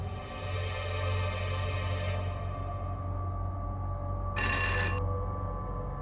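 A telephone rings in a short burst near the end, in a Hindi TV serial scene, over a steady low hum and background noise.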